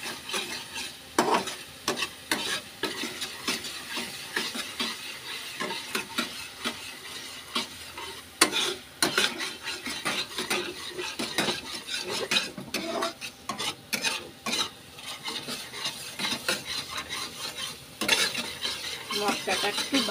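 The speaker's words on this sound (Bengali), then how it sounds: "মশলাটা একটু ভাজা ভাজা হয়ে গেলে" Cumin and Kashmiri chilli powder masala frying in a pan over raised gas flame, with a constant sizzle broken by frequent scraping stirs and clinks of a metal spoon against the pan, close and fairly loud.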